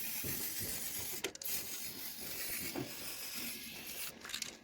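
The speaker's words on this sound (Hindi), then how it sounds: "स्प्रे कर देते हैं। इसको साफ़ कर ही लिया था मैंने पहले, अब इसको करते हैं स्प्रे।" Black spray paint hisses from a can onto a bike part in a steady, close, continuous spray broken by brief pauses.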